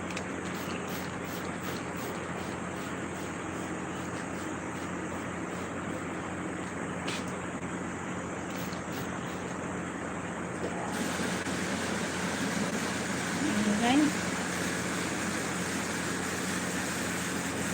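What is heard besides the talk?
noisy water pump motor running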